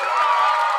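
Audience applause and cheering for a winner named Ray Kelly, a short dense burst of many clapping hands and whoops, steady and fairly loud throughout.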